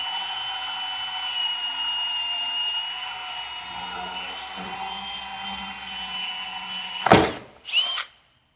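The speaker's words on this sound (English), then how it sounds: "What you will need is a 29mm hole saw. Put on your drill." A power drill with a 29mm hole saw whines steadily at a high pitch, cutting through plastic in a car, then bursts briefly louder twice before stopping abruptly.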